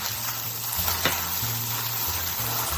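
Garlic sautéing in sesame oil with mirin, a steady close sizzle and crackle with a brief clink and some stirring.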